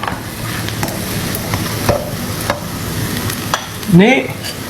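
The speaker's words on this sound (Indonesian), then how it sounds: "sekarang nih airnya udah mulai mendidih tuh" Water coming to a boil in a cooking pot before macaroni goes in, a steady close bubbling hiss with light clinks and a short louder clatter near the end.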